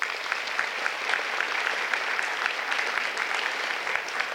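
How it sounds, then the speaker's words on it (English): An audience claps for an absent student named for the Outstanding Senior Award in Sociology at a campus student achievement celebration. The applause is steady and even throughout, with no voices over it. "thank you for the round of applause for her"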